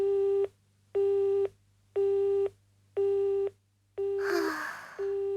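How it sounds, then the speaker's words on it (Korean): Telephone busy signal: a steady tone beeping in regular on-off pulses, four or five bursts, with a short noisy gasp-like burst over one of the later beeps. "노은이 아직도 통화 중이에요?"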